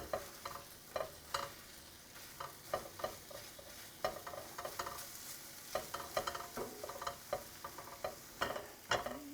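Eggs beaten with milk cook in a pan for a breakfast burrito, giving a soft background sizzle broken by repeated clacking scrapes and taps of a spatula turning them, close and fairly quiet.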